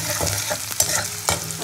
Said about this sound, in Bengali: পেঁয়াজটাকে ভালো করে ভেজে নিয়ে আমি বেটে রাখা মশলাটা দিয়ে কষাবো।